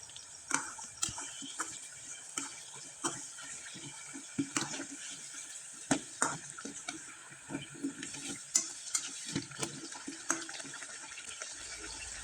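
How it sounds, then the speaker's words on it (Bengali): Rice flour pitha deep-frying in hot oil make a continuous bubbling crackle dotted with irregular sharp pops and spits, fairly close and steady throughout. "পিঠাগুলো একবারে মুচমুচে করে ভেজে নিলাম"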